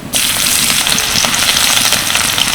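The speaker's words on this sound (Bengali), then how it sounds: "কড়াইতে দিয়ে দিচ্ছি কিছুটা সর্ষের তেল তেলের মধ্যে দিয়ে দিচ্ছি চারটে শুকনো লঙ্কা কয়েক কোয়া থেতো করা রসুন" Dry red chillies and crushed garlic cloves dropped into hot mustard oil in a kadai, giving a loud, steady sizzle that starts abruptly and crackles continuously with no talking.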